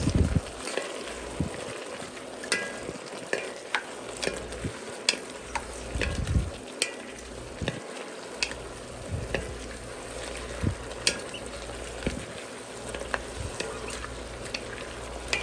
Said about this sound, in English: Okay, I'll add the red onions. Mix those.